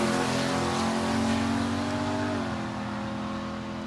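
Turbocharged all-wheel-drive Chrysler 300C launches hard at a drag strip during Hot Rod Drag Week, its engine roaring loud and close with a steady harmonic drone that dips slightly as it pulls away, no voices.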